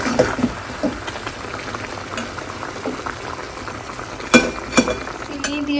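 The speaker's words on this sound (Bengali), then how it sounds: "এবার এটা আমি ভালো করে কষিয়ে নেব" Dhaniya chicken sautéing and bubbling in a pan, with watery juices from frozen meat releasing: a steady simmering hiss broken by scraping stirs and a few sharp clinks of a spatula against the pan near the end.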